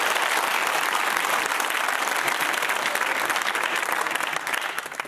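Sustained applause from quiz contestants at the grand final of a televised university quiz, a dense even patter of clapping from a small group that holds steady and then begins to fade near the end.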